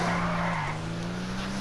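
A video game car brakes hard into a skid, its tires giving a sustained, loud squeal over the engine drone that dips slightly in pitch partway through.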